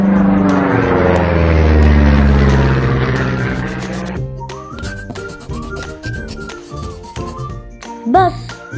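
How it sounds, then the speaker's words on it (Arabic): An airplane roars loudly in flight, its tone sweeping down as it passes close, then fades into a light melodic background; no one speaks. "بلين طائرة،"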